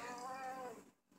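A cat meows once, long and drawn-out, close and fairly loud, sounding unhappy and fading at the end.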